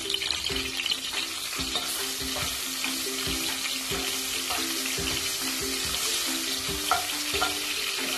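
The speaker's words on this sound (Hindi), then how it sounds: "अब मैं इसके अंदर गार्लिक डाल रही हूँ" Garlic frying in two to three tablespoons of hot oil: a dense, continuous crackling sizzle close up, with faint repeated scraping of stirring and a steady background hum, no voices.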